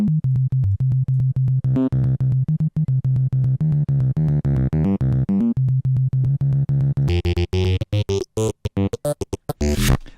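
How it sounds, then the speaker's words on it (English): Dry Citrus synthesizer patch with rising modulation and no effects, playing a rhythmic, buzzy bass-heavy pattern of short repeated notes that grows brighter and more chopped toward the end, loud and alone. "This is what you'll be getting out of Citrus just by itself as a patch."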